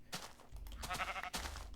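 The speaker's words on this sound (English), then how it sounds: "I'm going to get some wool from these sheep" Sheep bleating in Minecraft, a few wavering blocky bleats close by in a game world, with no talk over them.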